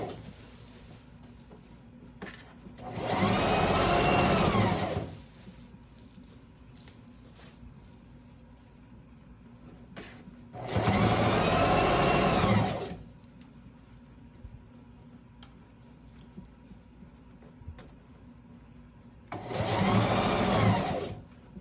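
A sewing machine stitches lining in three separate runs of about two seconds each, a close, even whirring that starts and stops cleanly between quiet pauses.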